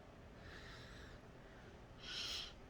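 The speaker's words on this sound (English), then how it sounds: "I do not like sniffling." Two quiet nasal sniffs, a softer one followed by a sharper, louder inhale through the nose, close to the microphone in a hushed room.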